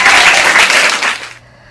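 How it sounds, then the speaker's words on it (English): A broadcast audience's applause at a school weekly show, a dense burst of loud clapping that carries for over a second before cutting off abruptly to near silence. "Give a round of applause for the AVRLA Sports."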